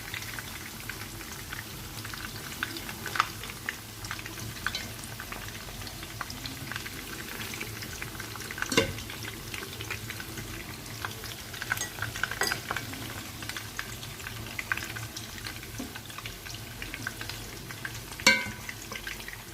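A cauliflower tajine cooks in a pot while being stirred, a constant soft bubbling and simmering with scattered light clinks and scrapes, fairly quiet and close.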